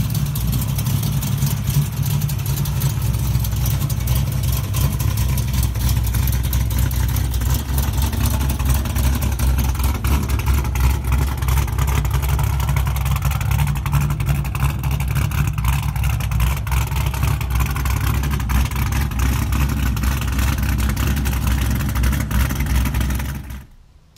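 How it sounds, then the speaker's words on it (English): A cammed Dart 363 V8 in a Mustang rumbles loudly through a 3-inch exhaust, with a deep, steady, lumpy idle and slight revving throughout before cutting off abruptly at the end. "that Dart 363 just freaking pounded through the 3-inch exhaust."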